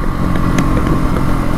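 An off-road motorcycle engine runs steadily and loudly up close for the whole stretch, with a sustained, even drone and no talking.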